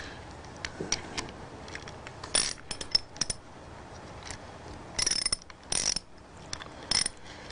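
A bolt is slid into the air receiver of an Autococker paintball marker, giving small close metallic clicks, taps and scrapes in scattered bursts against a quiet background.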